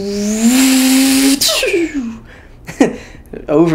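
A man imitates car turbo noises with his mouth: a rising sustained whine, then a quick spooling whoosh and short breathy bursts, loud and close.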